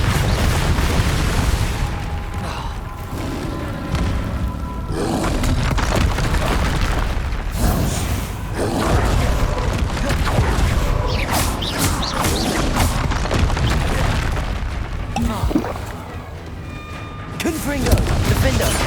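Repeated spell explosions from Confringo casts in Hogwarts Legacy combat, dense booming blasts and crashes layered over a busy, continuous battle soundscape with voices shouting.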